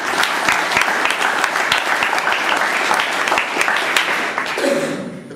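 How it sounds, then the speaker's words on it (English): Sustained applause from an audience after a presidential address at a formal meeting, dense steady clapping that fades toward the end. "A big round of applause."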